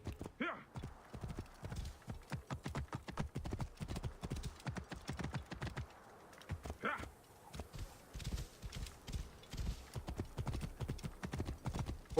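Horse hooves clip-clop in a rapid, steady galloping rhythm in the video game Assassin's Creed Origins, close and continuous, with a brief whinny partway through.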